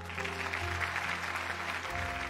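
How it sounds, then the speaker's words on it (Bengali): An audience at an event gives a round of applause for Rai, a steady wash of clapping heard together with sustained musical tones underneath. "রায়ের জন্য একটা জোরে হাততালি হয়ে যাক।"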